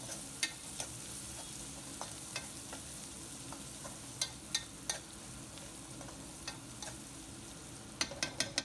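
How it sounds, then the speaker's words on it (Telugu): Onions and dry curry leaves frying quietly in a pan for a bitter gourd fry, a soft steady sizzle broken by scattered sharp scrapes and taps of a stirring spoon, with a quick cluster at the end. "ఆనియన్స్ అనేది ఇలా కలర్ చేంజ్ అయ్యే వరకు ఫ్రై చేసుకోవాలి ఇప్పుడు ఇందులో నేను కొంచెం డ్రై కరివేపాకు వేసుకున్నాను"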